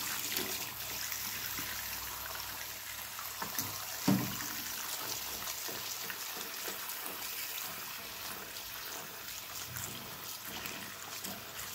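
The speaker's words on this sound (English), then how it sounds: "The cat will take a bath with hot water." Hot water running for a cat's bath, a continuous faint trickle and splash of flowing water with a brief louder slosh partway through.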